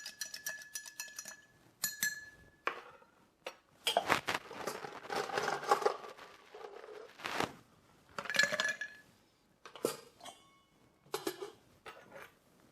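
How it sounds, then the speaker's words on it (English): Ice cubes being dropped into a mixing glass while making a Bijou cocktail with gin and orange bitters, a series of close, sharp clinks and clatters in irregular bursts with short pauses between them. "Then we're going to add some ice."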